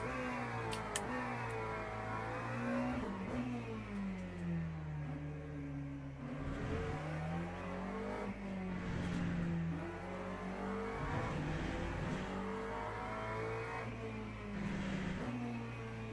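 A race car engine in the sim racing game Le Mans Ultimate revs continuously, its pitch climbing through the gears and dropping sharply on downshifts for braking, over and over across a lap, with no voices over it.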